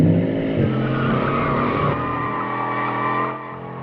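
Bugatti Chiron in handling mode pushing hard, with loud sustained tire squeal and engine roar blending into a continuous howl that eases slightly near the end, no talking.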